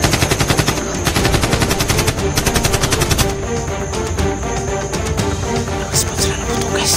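Rapid automatic gunfire in a shooter video game, a dense continuous stream of loud shots rattling for several seconds, then louder mixed combat noise.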